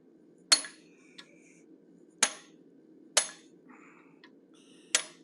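A hammer strikes a 3/16 inch fuller set on hot steel while an animal head is forged, four sharp, ringing metallic blows spaced about a second apart, with faint clinks between them.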